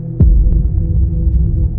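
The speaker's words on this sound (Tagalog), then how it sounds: "Pakiramdam ko, naririnig niya ang tibok ng puso ko." A heartbeat sound effect thumps loudly in the low register: one heavy beat opens, then muffled, throbbing pulses follow over a steady hum.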